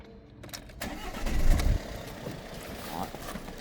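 A Jeep Renegade engine cranks briefly with a starter whir, catches with a low rumbling surge, then settles into a steady, moderately quiet idle.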